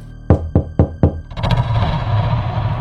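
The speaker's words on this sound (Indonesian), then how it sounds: "pintunya diketuk lagi." Four quick, loud knocks on a door as a sound effect in a spooky story, evenly spaced and close, followed by a low rumbling ambient tone.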